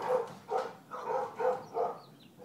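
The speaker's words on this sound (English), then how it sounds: "Crazy dogs." Dogs bark in a yard near a fruit tree and composter, about six evenly spaced, moderately loud barks in a quick rhythmic series with no talking.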